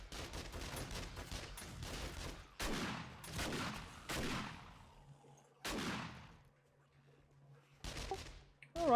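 Rapid gunfire bursts in the video game 7 Days to Die, several loud volleys with short pauses between them, echoing as they trail off.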